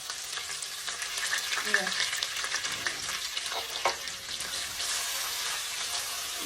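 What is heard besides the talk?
ginger and garlic frying in a pan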